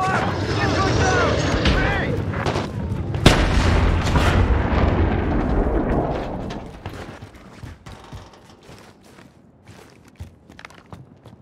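Heavy gunfire and booming artillery in the Call of Duty Modern Warfare video game, dense and loud for several seconds before thinning to scattered distant shots, with shouted voices over the battle.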